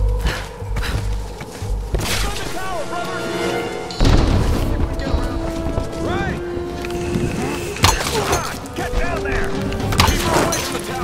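Gunfire and heavy booms break out in the Tomb Raider video game, with several loud impacts and crashes amid a dense, noisy fight while voices talk over the action.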